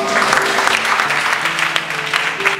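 A church congregation claps and cheers loudly in acclaim of the Lord, a steady wall of applause filling the room with a few voices rising through it.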